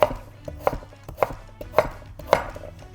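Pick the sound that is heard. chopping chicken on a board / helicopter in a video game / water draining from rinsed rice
chopping chicken on a board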